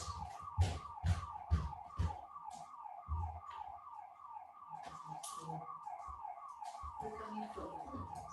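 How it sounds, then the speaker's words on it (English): An alarm rings in a rapid repeating electronic pattern at moderate distance, with bursts of knocking and movement noises over it. "No, it sounds like a house alarm."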